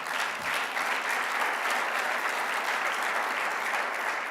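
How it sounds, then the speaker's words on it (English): A conference audience at a congress in Bilbao applauds steadily, a dense, even wash of many hands clapping close at hand throughout, with no voices over it. "We can applaud them again."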